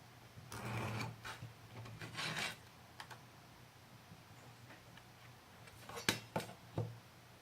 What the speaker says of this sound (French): je prends donc ma règle et mon cutter et je découpe l'excédent du plastique